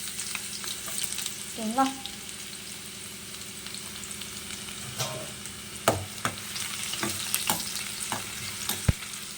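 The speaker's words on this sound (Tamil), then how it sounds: "கடுகு தீஞ்சு போகிறதுக்கு முன்னாடி நம்ம கட் பண்ணி வச்சுருக்கிற அந்த சின்ன வெங்காயத்தை சேர்த்துக்க போகிறோம்" Small shallots frying in oil with mustard seeds for a rustic snail gravy, a steady sizzle with stirring scrapes and occasional pops, and a brief spoken question near the start.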